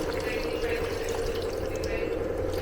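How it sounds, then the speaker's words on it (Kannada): A glass of water is poured into a cooking pot of tomato vegetable curry in a home kitchen, making a steady splashing rush for the whole moment, with a voice murmuring faintly underneath. "ಒಂದು ಲೋಟ ನೀರು ಹಾಕ್ತೀನಿ ಇವ್ರೆ"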